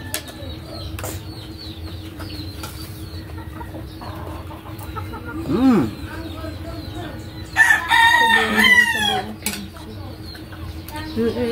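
A fighting cock crows loudly and near, with a short call midway and a longer, fuller crow later, over a low background hum and occasional voices.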